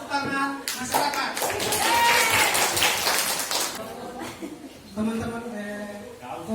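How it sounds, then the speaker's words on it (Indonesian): Audience applause at a community discussion session, a dense burst of clapping that swells for several seconds, fades, then rises again briefly near the end, with a few voices mixed in. "Kita kasih tepuk tangan masyarakat."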